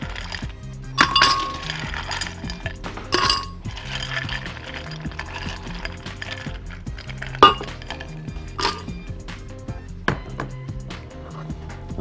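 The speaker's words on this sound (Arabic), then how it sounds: "على طول كده هبدا شويه كعبات التلج." Ice cubes for a grape and pomegranate smoothie clink and knock against a glass in a handful of sharp, bright impacts spread across the span, with quieter rattles between.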